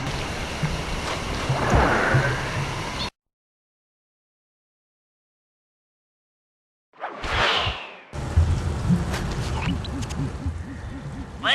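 A waterfall roars beside a jungle temple in the video game Sly 2: Band of Thieves, a steady, loud broadband rush that cuts to about four seconds of silence, then returns with a brief swoosh before the dense rushing resumes.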